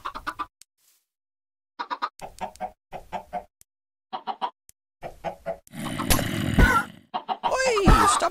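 Backyard chickens clucking in short, repeated bursts with gaps between them, close and clear, and louder squawking and scuffling near the end.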